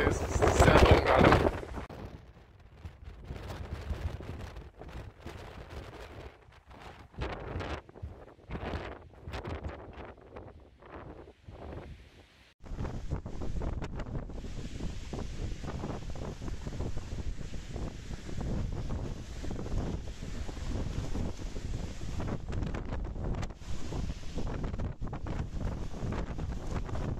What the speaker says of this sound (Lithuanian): Labai stipriai vėjuota, net sunku atsistoti